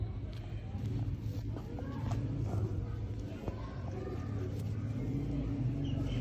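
A Miyan Nazir bloodline pigeon cooing close by, soft repeated low coos over a steady rumble of background noise, with voices faintly present.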